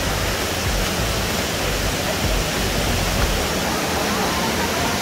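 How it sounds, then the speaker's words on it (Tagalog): Tanawan Falls in Dingalan, Aurora, a loud steady roar of rushing water filling the air without a break. "So this is now the Tanawan Falls."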